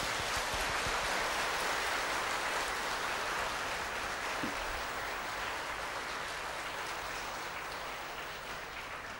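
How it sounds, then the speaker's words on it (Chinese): A crowd claps warmly and steadily to thank the abbot and volunteers of Haein Temple during a Buddhist teaching session. The applause is dense and sustained throughout, easing slightly toward the end, with a faint background hiss that may be rain. "我们为海印古寺的住持 跟所有的义工以热烈的掌声谢谢他们吧"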